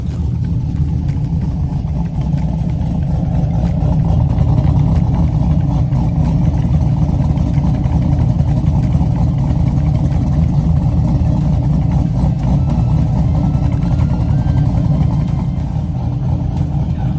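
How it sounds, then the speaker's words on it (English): A car engine idles smoothly after a cold start, a steady, low, loud rumble that holds even and unbroken throughout, with no voices over it. "The car's just been idling great."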